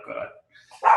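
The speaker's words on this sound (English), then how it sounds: "sorry about my dog." A pet dog barks indoors during an online meeting, two short close barks separated by a brief pause, the second louder and sharper, with no speech over them.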